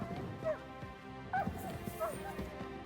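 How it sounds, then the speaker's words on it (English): A dog in the video game Kingdom Come Deliverance 2 gives several short yips and whimpering barks, fairly quiet and distant, over a low background hum. "Is that my dog?"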